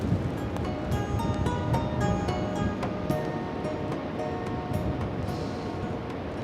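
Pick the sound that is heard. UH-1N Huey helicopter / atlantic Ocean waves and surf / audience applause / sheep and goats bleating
atlantic Ocean waves and surf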